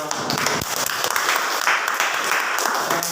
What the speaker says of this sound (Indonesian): Tepuk tangan pada